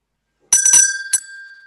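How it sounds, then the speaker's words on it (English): A bell rings during a reading of Shakespeare's Macbeth: a bright, clear ring of two or three quick strikes followed by one more, leaving a sustained high tone fading out after a silent start. "The bell invites me."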